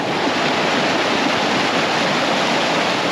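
Steady, loud rush of a river flowing over a rocky bottom, a broadband wash of water with no breaks, close to the microphone.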